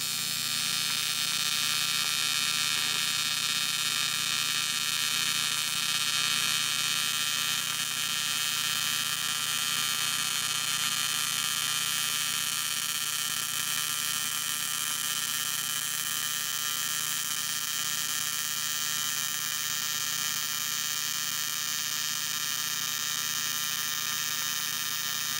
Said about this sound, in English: what we're gonna do now is run a bead of aluminum rod on AC